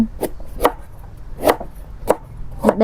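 Knife halving shallots and garlic on a cutting board, five crisp chops spaced about half a second apart, close and clear with no talking.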